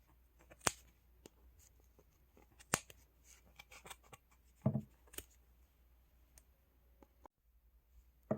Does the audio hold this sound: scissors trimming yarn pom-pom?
yes